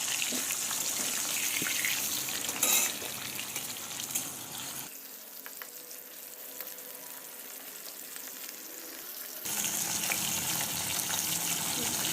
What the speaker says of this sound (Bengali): এটা এখন আমি ভালো করে মেখে তেলের মধ্যে ভেজে নেব